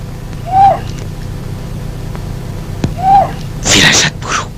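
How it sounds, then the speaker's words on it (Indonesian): An owl hoots twice at night, each call a short rising-falling note spaced a few seconds apart over a low steady background hum, followed by a brief burst of broadband noise near the end. "Kau dengar suara burung itu?"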